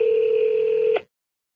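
A telephone call tone sounds once as a single steady electronic beep lasting about a second, then cuts off abruptly into silence.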